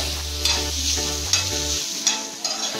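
A coconut and spice mixture dry-roasting in a pan, with rhythmic spatula scrapes and stirring strokes over a light crackle, close and moderately loud.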